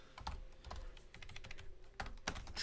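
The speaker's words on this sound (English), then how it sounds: "let's type in the chat" Quick bursts of typing on a computer keyboard, close and fairly quiet, with irregular key clicks clustered in short runs and a couple of sharper taps near the end.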